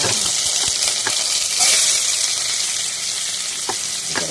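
Carrots tipped into a hot frying pan with onions and ginger paste, giving a loud, continuous close sizzle with a few clinks of stirring.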